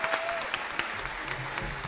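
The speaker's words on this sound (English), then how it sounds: "Let's please give a round of applause for Pastor Francois." An audience at a high school graduation ceremony claps in steady, moderately sized applause, heard alone at a modest level for a couple of seconds.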